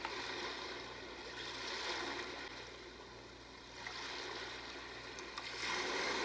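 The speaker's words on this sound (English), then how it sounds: "This is the ocean." Ocean setting on a sleep sound machine: a continuous wash of surf-like noise that slowly swells and recedes in gentle waves, steady and fairly soft, with no talking.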